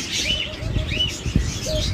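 Doves in a crowded bird shop, several soft coos and short chirps repeating close by over a busy background of other birds.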